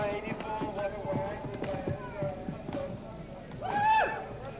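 A horse canters over a cross-country eventing course at a horse trials in Massachusetts, its rhythmic hoofbeats thudding steadily under continuous commentary, with a louder burst near the end.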